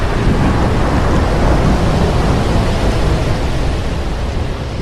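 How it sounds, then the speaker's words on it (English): A thunderstorm sound effect plays during a read-aloud story, a loud, continuous rumbling wash of rain and thunder that fills the whole stretch evenly with no voice over it. "Then one afternoon, there was a storm."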